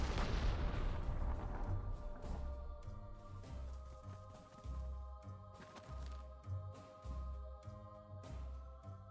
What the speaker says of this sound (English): Got our self-propelled artillery opening fire.